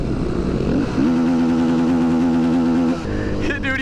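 Motorcycle, a KTM supermoto, riding past while doing a wheelie at night, its engine droning loud and steady then shifting pitch as it passes, with voices talking over it.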